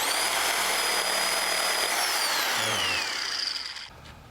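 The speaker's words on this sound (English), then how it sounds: "I had to complete the cuts with my Sawzall" A Sawzall reciprocating saw cuts through the top of a wooden post, its motor whining loudly and continuously, then winding down as the cut ends.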